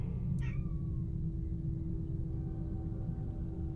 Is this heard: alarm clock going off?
no